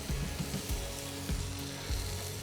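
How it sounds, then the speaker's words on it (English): Stanthorpe apples with maple and butter hiss and crackle on a hot grill, a dense close sizzle with a few low thumps repeating underneath, no talking. "So like I said, just grill those apples up."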